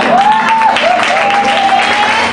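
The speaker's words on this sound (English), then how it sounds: "Let's give these brothers a hand clap." A church congregation claps for visiting preachers during a worship service, a dense, steady wash of applause with a sustained organ or keyboard tone running underneath throughout.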